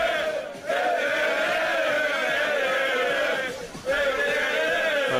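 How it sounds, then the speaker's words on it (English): A football crowd roars steadily in support of Broadbeach United during an FQPL 1 Men match against Logan Lightning, a dense sustained cheer that dips briefly twice. "The crowd is very much behind Broadbeach United as they have taken the lead."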